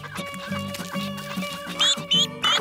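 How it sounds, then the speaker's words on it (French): A small duck quacks in a cartoon farmyard, short bright calls bursting out over a steady musical backing near the end. "Crunchy, ce petit canard te fait peur?"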